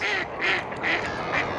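Birds call outdoors on an autumn walk among golden leaves, repeated quacking calls in four evenly spaced bursts, fairly close and clear.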